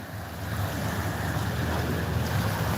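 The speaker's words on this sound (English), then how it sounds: "So the water is approaching the seashore so fast" Indian Ocean water washes onto the seashore in a steady, continuous rush of surf, with wind buffeting the microphone throughout.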